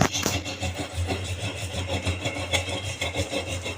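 Almonds are ground by hand for a white almond drink, producing a steady, close rubbing and grinding scrape that continues throughout with rhythmic strokes and no talk.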